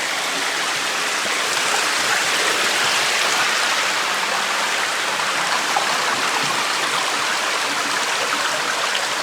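A small cascading waterfall or rapids inside Deadhorse Cave rushes in a steady, dense hiss at close range, unbroken throughout and heard alone without talk.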